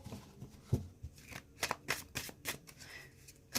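Tarot cards are shuffled close up in a series of soft, papery riffles and slaps, irregular in rhythm and fairly quiet.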